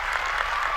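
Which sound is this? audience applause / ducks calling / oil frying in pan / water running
audience applause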